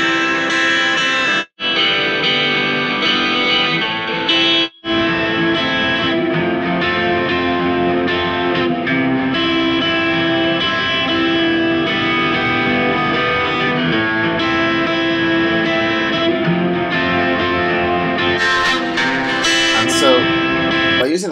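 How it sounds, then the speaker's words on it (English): Electric guitar pushed through a Scream 4 distortion unit into an amp simulator in Reason, ringing out as a continuous saturated, effects-heavy tone with two brief gaps near the start. "this is like using it like a distortion pedal, basically running it into the amp simulator"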